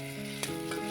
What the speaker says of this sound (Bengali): এখন শাকগুলো ভাজা করব।